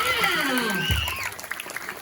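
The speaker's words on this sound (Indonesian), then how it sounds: "Tepuk tangan oleh pisan buat pengabar dengan luar biasa." Applause at a temple gathering, a dense clapping wash mixed with children's voices and speech sweeping over it, fairly loud throughout the short stretch.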